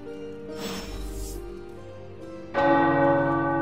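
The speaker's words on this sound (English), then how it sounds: "Tower bells are ringing." Tower bells ring in the video game Marvel's Midnight Suns, a resonant tolling that swells, then a louder bright strike rings out near the end, with no talk.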